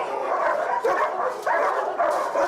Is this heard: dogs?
yes